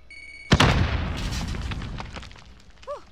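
A frag grenade detonates in a video game: a sudden loud boom that rumbles and decays over a couple of seconds, followed by a faint whistling tail with no talk.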